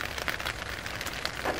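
Rain falls in cold weather just above freezing, a moderate patter of drops with uneven spattering bursts over a steady hiss.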